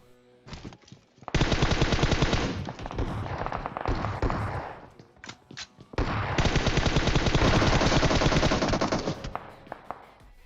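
Sustained automatic gunfire from PUBG Mobile, two long dense bursts of rapid shots separated by a short gap with scattered single shots, loud and close with no talking.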